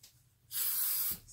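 Spray adhesive hissing from a can onto embroidery fabric in one close burst of about half a second, with a softer second spurt starting at the end.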